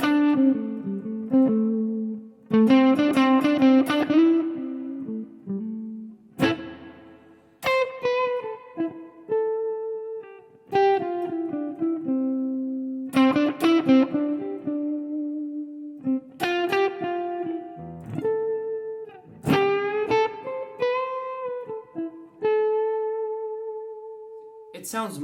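PRS SE245 Standard electric guitar run through a Line 6 HX Stomp plays simple single-note lines with varied picking attack, notes alternating between soft and hard plucks with pauses between phrases, clear and close with light effects.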